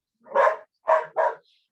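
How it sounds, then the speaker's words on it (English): Dogs barking indoors, three distinct close barks, the first longer, the next two in quick succession, with silence between and no talk. "why are your dogs barking right now?"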